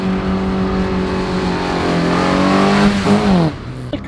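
Engine of a 1975 Opel Manta revving close up, a steady strong drone with rising and falling pitch, loud and continuous, no speech.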